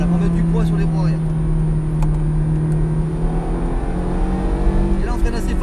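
A Ferrari F430 Scuderia's engine pulls on track from the cockpit, a steady loud drone with gently rising pitch as throttle is eased back on, continuous and close throughout.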